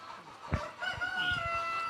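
An Australorp chicken gives a few short, nearby clucks and squawks in a brief burst, with faint background noise.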